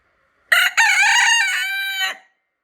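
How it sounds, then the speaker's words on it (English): A rooster crows once, loud and close, a harmonic cock-a-doodle-doo lasting under two seconds with a short break after the opening note, surrounded by silence. "And he's a rooster."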